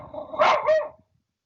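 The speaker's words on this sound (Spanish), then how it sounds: "es mi perrito que ladra en cualquier momento" A small pet dog barks twice in quick succession, close and fairly loud, then falls silent.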